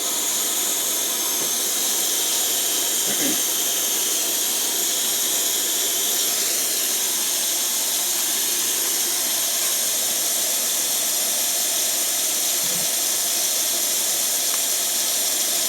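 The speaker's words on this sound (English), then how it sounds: "That, my friends, is a beautiful flame." A Coleman Feather 400B single-burner camp stove roars at full flame, a steady broadband hissing rush that holds unbroken and loud throughout with no talk over it.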